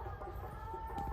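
A rooster clucks loudly and nearby in a short burst.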